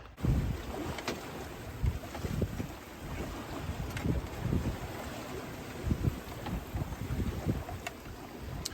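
Wind rushes steadily over a sailboat on a broad reach at night in about 14 knots, with low gusting buffets, creaks and water sloshing against the hull throughout.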